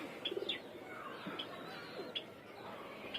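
Homing pigeons coo softly in a quiet outdoor spot as the birds return, with a few faint chirps scattered among the low calls.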